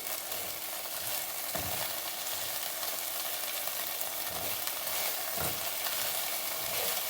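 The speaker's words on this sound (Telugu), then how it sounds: "క్యాలిఫ్లవర్ మనం లిడ్ పెట్టేసి తీసాను మళ్ళీ బాగా మిక్స్ చేసుకొని ఒకసారి" Cauliflower is stirred in a hot frying pan after the lid comes off, giving a continuous sizzle with a few scraping strokes of the spatula.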